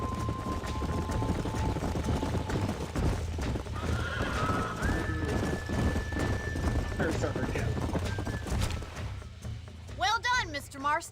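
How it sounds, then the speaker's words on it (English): Horses whinny and hooves clop on a ranch in the Western video game Red Dead Redemption, the hoofbeats steady and close beneath background music and talk, with sharp whinnying calls rising near the end. "These are fine horses."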